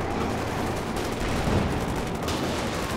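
A Jackson tank destroyer in a video game fires armour-piercing rounds, heavy booming gunfire with a dense, rumbling wash of battle noise, loud and continuous, with a sharper burst near the middle.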